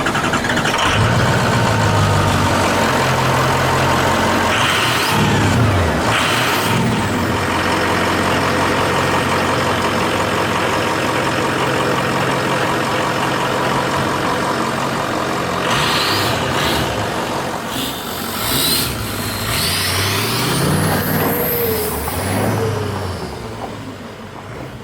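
A Power Stroke diesel engine in a Ford Ranger rumbles steadily nearby for the whole stretch, with a low idle and occasional rises in revs and a few clanks.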